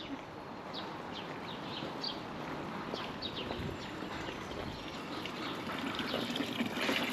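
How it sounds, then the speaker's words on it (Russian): Steady broadband splashing and trickling of a small dragon fountain on a street in central Moscow, continuous and fairly close, with faint bird chirps in the background. "Фонтанчик."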